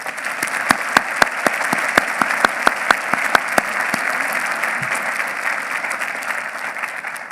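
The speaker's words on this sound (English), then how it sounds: "So may I have a hand of applause for Mustafa Ali." Audience at a law school commencement ceremony breaking into sustained applause, a dense even wash of clapping with a few sharper close claps near the start, continuing steadily throughout.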